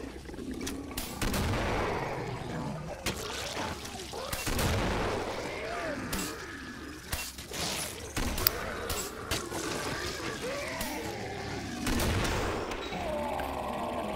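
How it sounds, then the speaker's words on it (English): Sustained gunfire from a Killing Floor match in a tournament grand final, with bursts and shots fired down hallways into a doorway, dense and continuous with overlapping booms throughout. "They're firing from down the hallways into the doorway."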